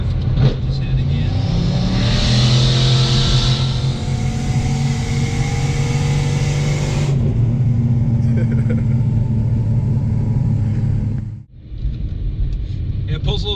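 A turbocharged 4.6L Mustang GT accelerates hard from highway cruising, with a loud, sustained engine drone heard from inside the car. Voices talk over it, the tone shifts partway through, and there is a brief dip near the end.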